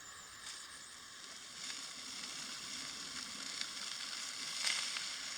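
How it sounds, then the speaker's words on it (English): Sausages frying in a pan at a wild campsite in Scotland, a steady soft crackling sizzle with small spits and pops, fairly quiet and close, no voices. "We're not going to be sticking them on sticks tonight, we're just going to put them in the pan and cook them."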